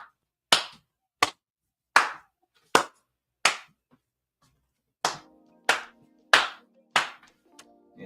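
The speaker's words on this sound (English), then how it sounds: "I gotta stand up and get this man a round of applause." A single man clapping his hands in applause, nine or ten sharp, close slaps spaced about a second apart, with a short pause midway.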